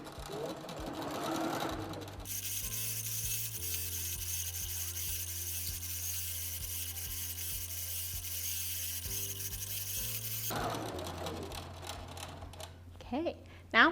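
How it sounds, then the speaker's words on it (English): A computerized quilting sewing machine stitches out a quilt pattern in a steady, fast, even run of close mechanical whirring that starts abruptly and stops after about eight seconds. "all I need to do now is click sew."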